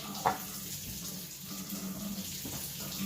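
Tap water runs while pizza dough is being prepared, a faint steady splashing stream in a kitchen with a brief clink near the start and low background hum.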